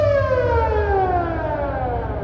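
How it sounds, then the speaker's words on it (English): The siren on a 1916 Morgan crane winds down in a loud, sustained wail, its pitch sliding steadily lower as it fades, alone with no voices. "So these cranes over here had the siren"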